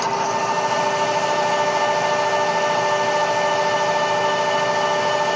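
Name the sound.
mag drill drilling through metal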